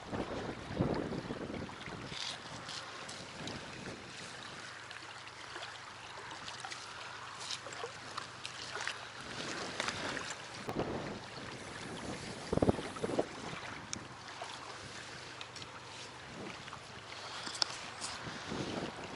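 Winter headwind gusts buffet the microphone with rough, uneven rushing on the Dniester River, and water laps faintly beneath it.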